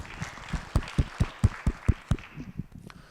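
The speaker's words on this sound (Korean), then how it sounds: "우리 받으신 주님께 감사의 박수" A church congregation claps in thanks during a service, a run of about a dozen sharp, evenly spaced claps with a strong, close rhythm that loosens and fades toward the end.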